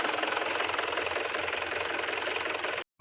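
A heavily loaded farm tractor runs with a loud, steady, rough engine rumble and knocking throb that continues unbroken, then cuts off abruptly just before the end.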